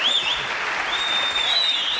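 Dense, steady studio audience applause fills a French television variety show as a professor is welcomed on stage, loud and continuous throughout, with a faint whistle rising over the clapping.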